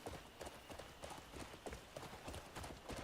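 Steady clip-clop of horse hooves in a video game, in a quick, even rhythm, close and continuous throughout.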